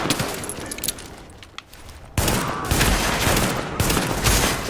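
Enemies in The Division fire guns in loud bursts, a sharp volley breaking in around the middle and continuing with another strong burst near the end.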